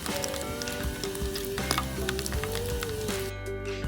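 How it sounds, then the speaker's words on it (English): Steady crackling sizzle with scattered small pops over a constant background hiss, a wrap cooking over an outdoor campfire. "You can hear the pop, pop, pop sizzle of my wrap."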